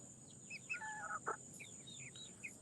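Hens and a rooster clucking softly in a small backyard flock, several short chirpy calls scattered over a quiet background with faint hiss, moderately close and not loud.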